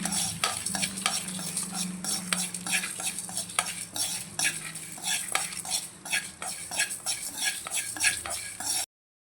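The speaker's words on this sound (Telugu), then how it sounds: "ఒక టేబుల్ స్పూన్ నువ్వు తెల్ల నువ్వులు అనమాట ఇవన్నిటిని మనం ఫ్రై చేసేసుకోవాలి" White sesame seeds fry in a pan, with a steady sizzle under repeated close scraping and stirring of a spoon against the pan, ending abruptly.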